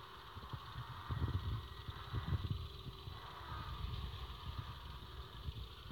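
A tank engine revs under nitrous boost in World of Tanks Blitz, a low, rumbling drone with rougher surges in the middle, steady and fairly close, with no talking.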